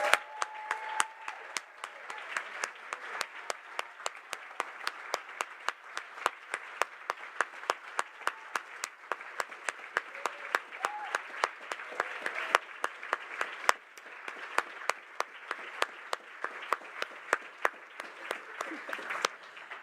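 Steady audience applause fills a food bank conference hall, many hands clapping densely and evenly for about twenty seconds with no pauses, with sharp individual claps standing out near the front.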